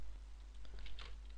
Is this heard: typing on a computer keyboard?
yes